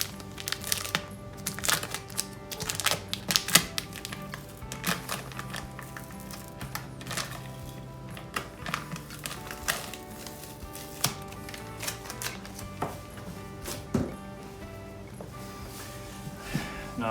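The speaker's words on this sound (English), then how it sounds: "Let's take the sticker off." Sticker being peeled off a new Hi-Run lug tire for a John Deere 110 round-fender tractor, a faint, steady crinkling and crackling with small taps, close, over a low background hum.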